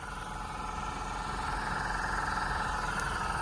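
1991 BMW 850 CSi engine running at idle after starting, a steady low rumble with even pulsing, moderately quiet and continuous, no speech.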